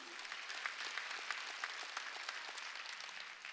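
Congregation clapping at a Wednesday church worship service, a steady, even wash of many hands with scattered sharper claps, moderately distant and without voices on top.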